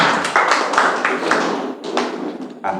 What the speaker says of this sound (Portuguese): Sente, batendo as palmas para Jesus